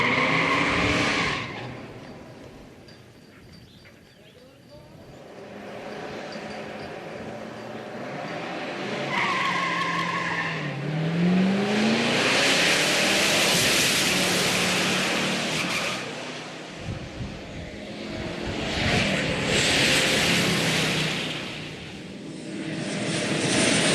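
A muscle car launching on a drag strip with hot tires, engine roaring and climbing through a long run while tire squeal and chirps cut in, loud and close, then easing off and surging again near the end.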